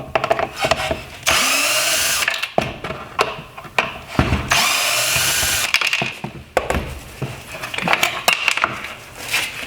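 A power screwdriver backing out Phillips screws from the headlight ballast of a 2014-2016 Toyota Corolla LED headlight, loud whirring bursts of the motor interleaved with clicks, rattles and handling of plastic parts.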